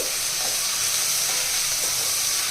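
Tomato masala with salt and turmeric sizzles steadily in a pan, a dense, even hiss of frying that holds at a constant level throughout with faint stirring beneath.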